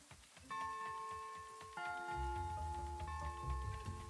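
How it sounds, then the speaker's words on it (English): In the video game Little Rocket Lab, bell-like chimes ring out at noon: sustained tonal notes enter in staggered layers and ring over a steady, rhythmic low game background, at a moderate level with no talk. "that like the first time we've heard the noon bell?"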